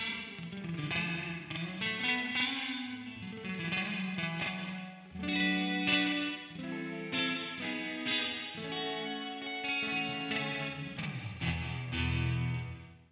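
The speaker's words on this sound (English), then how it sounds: "So it's got this like really thin, chimey sound that Stratocasters are really known for." A clean Stratocaster electric guitar plays thin, chiming chords and single notes, each ringing out into a wide, shimmering wash of reverb and delay.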